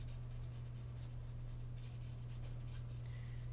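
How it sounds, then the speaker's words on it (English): A Copic marker rubbing and blending color on paper: soft, continuous scratchy strokes close up over a steady low hum, with no talk. "just keep turning the nib of your marker"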